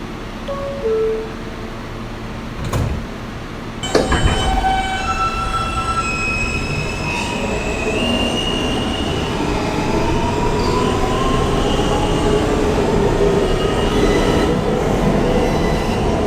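An F local subway train pulls out of the station, with wheels squealing in rising tones and rumbling rail noise that builds and holds steady, loud and close, after a thud of doors closing.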